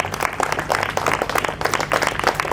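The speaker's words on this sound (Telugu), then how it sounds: "విన్నవారు చప్పట్లు కొట్టి" An audience at a church sermon claps together in a burst of applause, dense and fairly close, with the clapping swelling and easing in uneven waves throughout.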